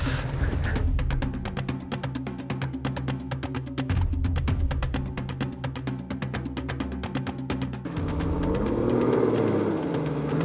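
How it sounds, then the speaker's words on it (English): A bogged Toyota Land Cruiser 4WD engine running steadily at idle, with a fast rhythmic pulsing throughout and a brief shift in tone near the end, close and loud with no talk over it. "the engine's just fired back up"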